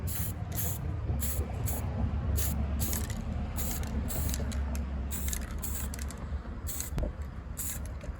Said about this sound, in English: I'm going to use leather brown, and I'm just going to spray it on the trees